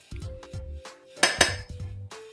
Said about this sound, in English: In a saucepan, I'm going to heat some butter, just a little bit.